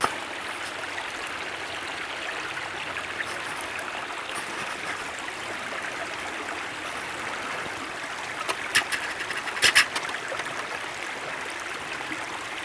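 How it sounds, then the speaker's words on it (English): Loud creek water rushes and trickles steadily through the woods on an Illinois farm, a constant broad wash with a few brief knocks and splashes near the end, no talking. "The creeks are just a little loud."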